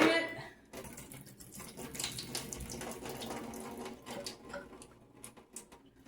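Liquid draining from a can of corn into a sink, a faint splashing trickle with soft clinks and water noise, quiet and intermittent.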